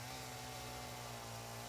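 A chainsaw in the video game Satisfactory gives a steady, droning buzz that holds an even pitch throughout. It is fairly quiet and heard alone, with no talking.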